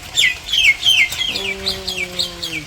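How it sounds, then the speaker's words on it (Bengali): In a village on a rainy day, chickens and other birds give rapid repeated chirps and clucks, close and fairly loud, with a longer sustained call partway through. "কত পাখি।"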